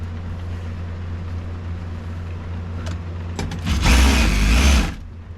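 A sewing machine stitches an elastic waistband, with a low steady motor hum that swells into a loud, fast whirring burst for about a second near the end and then drops back, close and with no talk.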